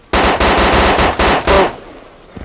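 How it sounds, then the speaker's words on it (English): Automatic gunfire in the video game DayZ, loud close bursts of rapid shots in three or four runs that cut off abruptly into near silence. "Sorry, I'm shooting Seds"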